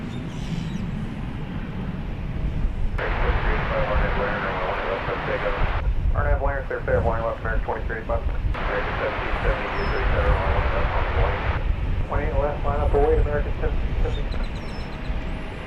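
An Airbus A321 airliner rumbles on the runway at Dallas/Fort Worth airport, a steady broad engine roar that carries throughout, with voices talking over it.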